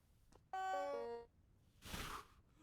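A bell in the video game Vintage Story, a clear multi-tone chime lasting under a second, followed by a soft broadband whoosh, fairly faint overall with no talk.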